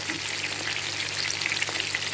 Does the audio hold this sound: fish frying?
yes